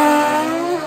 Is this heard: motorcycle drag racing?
yes